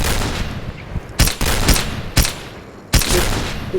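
Four loud, sharp shotgun blasts from an SG-669 in the shooter game Point Blank on a mining map, spaced unevenly about half a second to a second apart over constant gameplay background noise.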